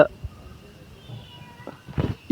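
A cat meows a couple of short times in a quiet room, the last cry the loudest.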